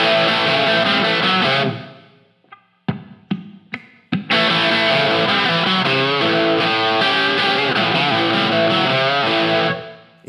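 Distorted electric guitar plays a song's opening riff in the live version: sustained chords, then a gap with a few sharp, choppy hits before the full loud riff returns and drives on alone.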